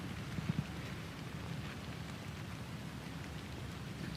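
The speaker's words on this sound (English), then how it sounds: "in these rainy conditions" Steady rain falling across a golf course during a rainy amateur championship round, a faint continuous hiss with no voices.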